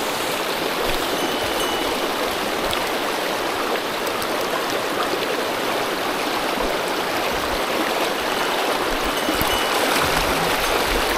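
A mountain stream in the Shinkawa valley on the upper Nozumi River rushes steadily over rocks, a loud close broadband roar of flowing water with no break.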